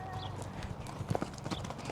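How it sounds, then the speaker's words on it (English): Faint, irregular clip-clop of horse hooves as a horse moves around a nearby round pen, soft thuds at an uneven trotting pace with a quiet voice in the background. "There's a horse running around the round pen next to us"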